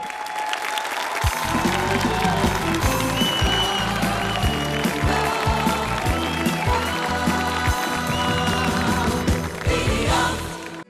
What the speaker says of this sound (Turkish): Alkışlar Emre Altu ve yakışıklı veliahtı Muharrem için geliyor.